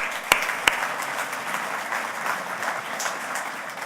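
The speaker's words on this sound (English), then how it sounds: "Let's give ourselves a round of applause, first of all." A large audience at a Celebrating Success awards evening breaks into a sustained round of applause, a dense steady clatter of many hands with two sharp louder claps standing out near the start.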